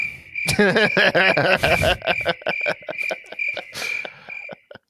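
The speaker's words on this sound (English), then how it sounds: "Insert crickets here." Crickets chirp in a steady, high-pitched rhythmic trill, with a few short clicking sounds mixed in.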